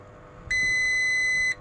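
A single steady electronic beep from a multimeter continuity test on an inductor on a Singer WT5310A washing machine board, high and clear, lasting about a second against a quiet background.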